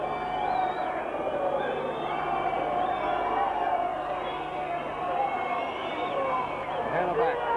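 Dense, roaring football crowd at Leyton Orient against Wrexham in a 1989 Fourth Division play-off final, cheering and whooping as fans pour onto the pitch, steady and loud, with a commentator talking over it.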